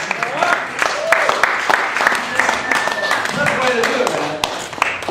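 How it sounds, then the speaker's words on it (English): A comedy club audience at a stand-up set gives applause and scattered claps, a busy close clatter with cheers and whoops rising over it, while voices talk through much of it. "All right, I'm leaving on some claps and applause."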